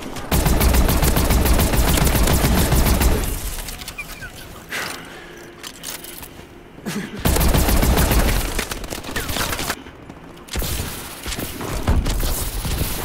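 Rapid automatic gunfire from the Ohm weapon in Call of Duty: Advanced Warfare, loud sustained bursts of several seconds each separated by brief pauses, with game ambience between volleys.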